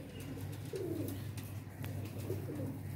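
Sialkoti pigeons in a loft give low, soft cooing calls in a few rolling phrases, close by over a steady background hum.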